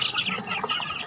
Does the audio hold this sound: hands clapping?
no